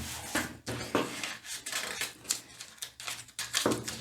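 Scissors cutting a paper sleeve pattern for a wrap blouse, a steady series of crisp snipping strokes close by, evenly paced and fairly quiet, with no talking.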